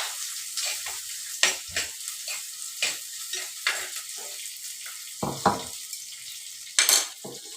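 Coconut bits, ginger, green chili, curry leaves and mustard seeds sautéing in a pan, a run of rhythmic spoon scrapes and clinks against the metal over a light sizzle, close by, with no talk.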